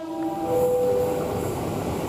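An 8-car KRL commuter train at Juanda station in Jakarta rolls past, with a loud steady rail rumble and a brief tonal squeal or horn-like whine near the start.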